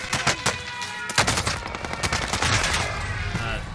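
Rapid bursts of NZ rifle fire in the video game Warzone Pacific, loud and close, sharp repeated cracks at first, then a sustained rattling barrage with a little voice under it.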